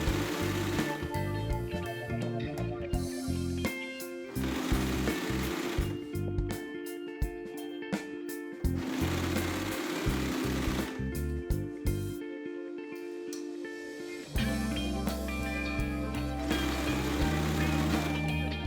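A domestic sewing machine stitches the final seam of a thrifted brown top in bursts, loud rapid runs broken by short pauses and clicks, with no talking.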